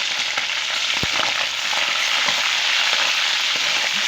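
Chicken fries in hot oil, giving a loud, continuous close sizzle with a single sharp clink partway through.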